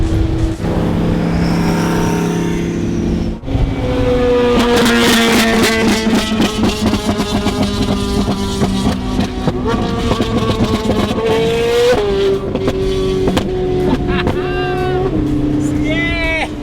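A Ferrari sports car engine roars loudly at close range on a road trip, with sustained high revs, rising and falling pitch and sharp gear changes, filling the whole stretch.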